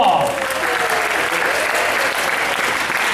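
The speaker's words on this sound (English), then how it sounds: "Give yourselves a round of applause." An audience at a family sing-along concert applauds, a dense and loud wash of clapping that stays steady throughout, with some voices mixed in.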